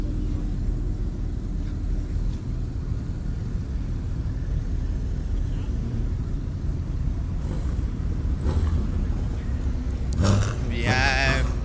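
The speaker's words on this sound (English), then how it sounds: "I can hear the sound of all the engines right now" Several sports car engines at a track day make a continuous loud rumble and roar, with one car's rising whine near the end, while a person talks over the noise.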